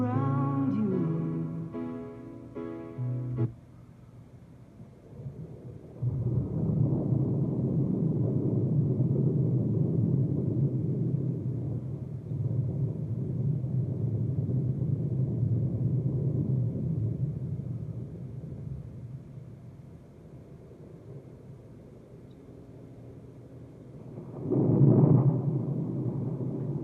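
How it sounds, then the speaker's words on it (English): Thunder rumbles at length, a deep, low roll that swells and lingers, then fades before another louder rumble near the end, preceded by a short stretch of music. "You hear the thunder?"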